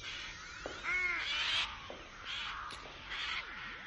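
Crows caw outdoors as a radio drama sound effect: several harsh caws and rasping calls in quick bursts, moderately near over a quiet background, with no voices.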